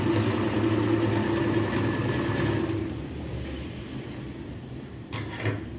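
Sewing machine stitching along the edge of a blouse, a steady rapid mechanical whir for about three seconds that then slows and fades, followed by a brief rustle of fabric.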